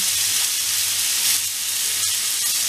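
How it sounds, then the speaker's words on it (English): Butter sizzling loudly and steadily in a hot pan with beef, a dense continuous hiss up close with small crackles and no talking. "all we're going to do now is add a touch of butter to the pan"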